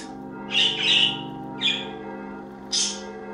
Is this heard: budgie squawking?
yes